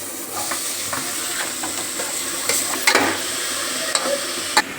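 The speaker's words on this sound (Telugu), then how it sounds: "ఆయిల్ వేసి బాగా ఇది చికెన్ కర్రీ అండి వేగేలాగా చక్కగా తిప్పుకుంటూ ఉండాలి ఫాస్ట్గా" Chicken curry frying in hot oil in an outdoor village kitchen, a steady loud hiss and sizzle with scattered clinks and scrapes as it is stirred quickly.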